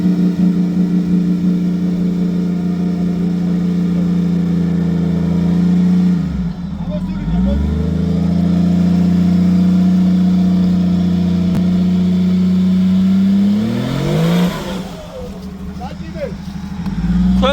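A Nissan Patrol off-road vehicle at a forest off-road challenge event, its engine holding a loud steady drone, dipping and revving up twice, close by, with voices talking over it.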